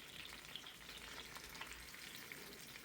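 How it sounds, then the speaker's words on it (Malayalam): Fish pieces frying in a pan in a home kitchen, a quiet, continuous crackling sizzle with small spits and pops throughout, heard alone without talk. "അപ്പോൾ അടുത്ത ഫ്രൈ ചെയ്തെടുക്കുവാണ് മീനൊക്കെ."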